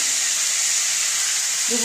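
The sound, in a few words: bay leaves sizzling in hot oil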